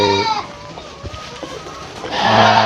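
Several goats bleat loudly at a goat market, with a long nasal bleat at the start and another at the end over a murmur of faint background noise.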